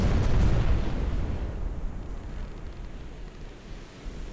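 A pirate ship's cannon broadside in the naval game Buccaneers, a heavy, loud low boom up front that rolls on as a long rumbling decay, with no voices.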